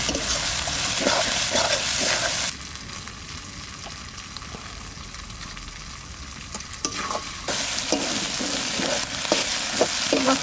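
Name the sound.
spices frying and being stirred for chicken curry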